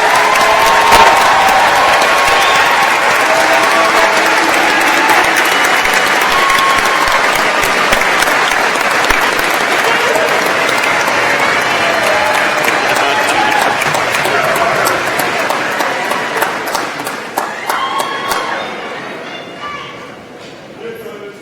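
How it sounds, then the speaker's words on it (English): A large commencement audience gives sustained applause for the 2023 College of Engineering graduating class, a dense, steady wash of clapping with some cheering that thins out and fades over the last few seconds. "Let's give them one more round of applause."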